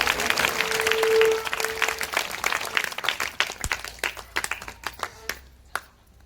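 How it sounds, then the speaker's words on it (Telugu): A church congregation at a Lenten prayer healing service clapping together, dense at first, then thinning into scattered individual claps with a brief ringing tone early on. "మీరందరూ చేతులు గట్టిగా దేవుని వైపు చూపించి క్లాప్స్ కొడతారు"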